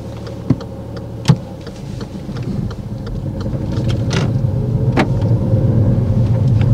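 Learner car pulling away during a driving lesson: a few clicks and knocks inside the cabin, then the engine hum and road rumble build steadily as it moves off, with no talking.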